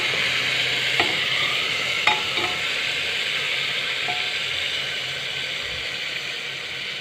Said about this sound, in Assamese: তাতে মই সানি থোৱা মাংসখিনি দি দিলোঁ তেলত।